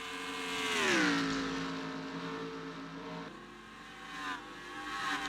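The Polaroids Pontiac, a blue and white Craftsman Cup Series race car, drones past during qualifying at Atlanta, its engine pitch sweeping down as it passes and then holding a steady, fairly faint roar.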